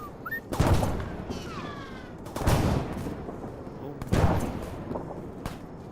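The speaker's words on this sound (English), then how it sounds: "I just heard some gunshots at bearing 30." Three distant gunshots in a video game sound at roughly even intervals, each a sharp report followed by a rumbling echo over a quiet outdoor background.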